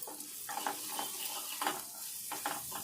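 An onion mixture with half a spoon of chilli powder sizzles in a pan while being stirred, with soft scraping strokes at irregular intervals over a steady frying hiss.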